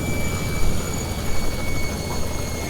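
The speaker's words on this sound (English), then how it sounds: "gently lower the helicopter" Robinson R66 turbine helicopter landing, a loud continuous turbine whine with steady rotor roar heard from inside, no pauses or talk.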